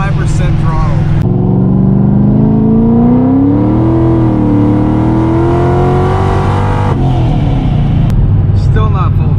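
Car engine with a wrongly gapped spark plug revving hard at high throttle, a loud sustained roar that climbs and holds in pitch, close up, with a voice briefly over it.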